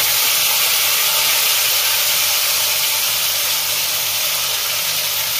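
Onion paste hisses loudly and steadily as it hits hot oil in a pan, a constant close sizzle for a Bengali pabda fish curry with bori.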